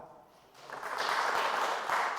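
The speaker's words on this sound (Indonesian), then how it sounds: "Berikan tepuk tangan buat Tuhan." Church congregation at an Indonesian-language service clapping in praise, a dense wash of many hands swelling after a brief pause and holding steady, fairly loud with no voice on top.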